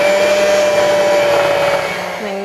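An electric hand mixer whips a strawberry cheesecake ice cream mixture, a steady loud motor whine running continuously, then dropping slightly in pitch near the end.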